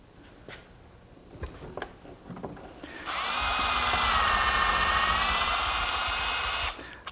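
A power drill drives screws into a breakfront cabinet frame held by a clamp, a loud steady whir running for about three and a half seconds after a few faint knocks and handling sounds, then cutting off.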